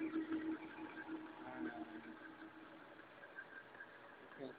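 A helicopter gearbox test rig runs at about 315 RPM, giving a steady mechanical hum with a faint knocking texture, heard alone at low level.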